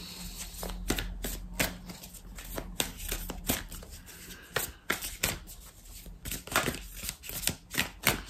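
Oracle cards being shuffled by hand in a run of quick crisp riffles and slaps, close and fairly loud, repeating in irregular bursts with no talking.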